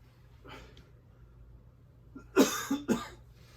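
A faint breath, then a quick run of two or three close, sharp coughs, loud against a quiet background.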